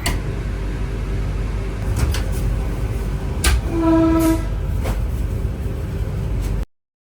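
Inside a Vande Bharat Express train leaving Ahmedabad, a low steady rumble with a few clunks, a brief tonal beep or hum as the automatic doors shut, and the carriage running on.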